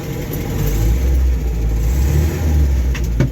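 A 1968 Land Rover Series IIa 88 driving slowly in first gear, high range, its engine a loud steady low drone with a brief knock near the end.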